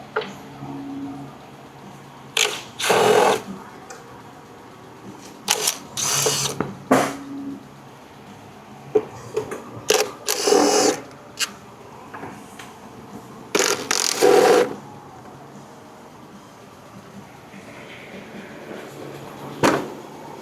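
Ratcheting 10 mm socket wrench removing valve cover bolts on a 2009 Hyundai Santa Fe, heard as several separate bursts of clicking ratchet strokes with quiet pauses between them, close and fairly loud.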